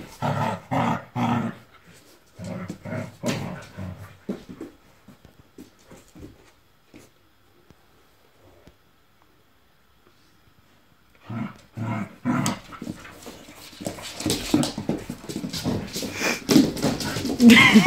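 A small young dog, almost a year old, growls and whimpers in low, rough bursts and thin whines, while someone talks to it in Dutch between and over the sounds, with noisier rustling near the end.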